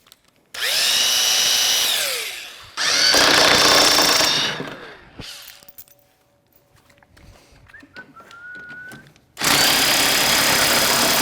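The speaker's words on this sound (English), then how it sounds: "Now we can go ahead and use our impact driver and pull those 17mm bolts." An impact driver backs out 17mm bolts from a Polaris snowmobile rear suspension skid, loud close bursts of whirring hammering in three long runs, with quieter clinks and handling noises between them.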